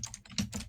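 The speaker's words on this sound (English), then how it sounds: "I have one of those keyboards for people that like the sound of typing." Typing on a loud computer keyboard: a brief, close burst of clattering keystrokes in a quick, uneven rhythm, with no voices.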